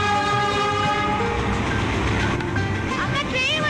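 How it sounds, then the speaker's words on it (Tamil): A train comes closer with a loud, continuous rumble and a tooting horn, while voices talk over it throughout. "அக்கா ட்ரெயின் வருதா?"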